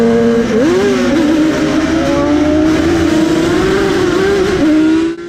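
A Craven TZ racing motorcycle howls during a race at Anglesey, its engine note rising steadily through the revs with a brief dip at a gear change, loud and continuous, then cutting off abruptly at the end.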